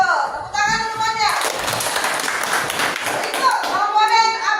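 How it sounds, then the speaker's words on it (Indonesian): A class of children claps their hands together in a burst of applause lasting a couple of seconds, framed by children's voices talking before and after. "Tepuk tangan semuanya."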